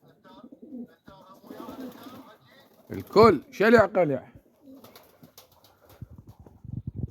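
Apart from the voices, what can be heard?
pigeons (birds) cooing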